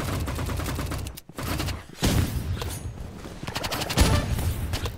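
Rapid bursts of Uzi submachine-gun fire in the shooter game Rivals, dense automatic volleys with brief gaps between them, loud and close throughout.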